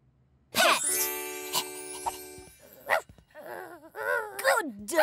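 A cartoon dog barks and yips a few times in an animated children's spelling show, the short barks mixed with lively character voices and whimpering calls.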